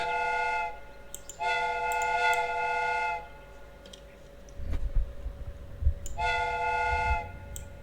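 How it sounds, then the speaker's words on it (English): A steam whistle sounds in the Sherlock Holmes: Crimes and Punishments video game, three long, loud, steady harmonic blasts with gaps between them, while clanking mechanical thuds and hissing come in toward the end. "The steam whistle is ready to be used."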